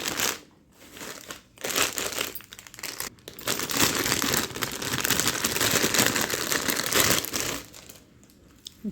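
Plastic packaging around a matte-finish bridal jewelry set crinkles and rustles up close as it is pulled open, in bursts of crackling with brief pauses between.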